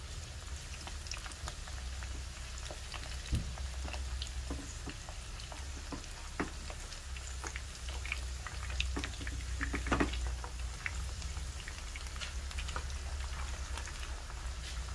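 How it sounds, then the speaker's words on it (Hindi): Vegetable cutlets shallow-fry in a pan, crisping on one side with a dense, steady sizzle and frequent sharp crackles and spits throughout, close and fairly loud. "जब ये टिकियाँ एक तरफ से क्रिस्पी फ्राई हो जाएंगी तो इन्हें पलट कर फ्राई करेंगे"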